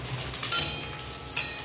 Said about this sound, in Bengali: দিয়ে আর একটু ভেজে নেব পেঁয়াজের সঙ্গে